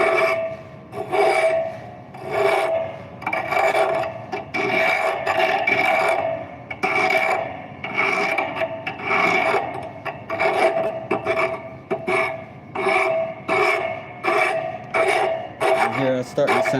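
A metal file rasps gently along a blade edge, drawn in repeated even strokes about once a second, close and fairly quiet, each pass a bright scraping hiss with short pauses between.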